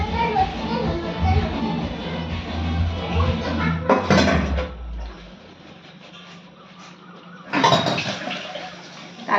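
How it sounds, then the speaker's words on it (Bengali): Tea dishes are washed by hand with water, clattering and splashing in loud bursts while someone talks, then quieter rinsing before another sharp rush of water. "সেই চায়ের বাসন রয়েছে, সেগুলো মাঝামাঝি সেগুলো মেজে নিই"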